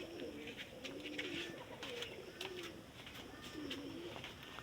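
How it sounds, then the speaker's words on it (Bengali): Pigeons coo softly in low, rolling phrases that repeat over a faint background hiss, fairly quiet and a little distant, with no talk. "ওই দেখো কি সুন্দর কবুতর দৌড় পাঠাচ্ছে"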